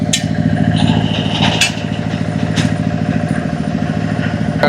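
A tractor engine chugs with a steady, low rumble close by in Kilinochchi, holding an even loudness as it rolls along.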